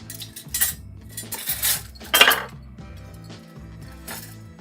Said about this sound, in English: I like metal spoons, but they're too loud on stream